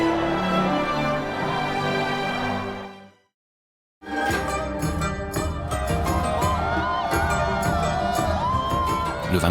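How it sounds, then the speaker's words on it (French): A large crowd cheers and acclaims in an old town, with sustained whoops and shouting broken by a brief silence before the roar resumes at full loudness. "les acclamations et les tachidélèques retentissaient sans discontinuer"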